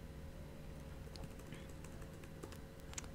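Someone types on a computer keyboard, producing a quiet run of light key clicks at an uneven pace over low background hum.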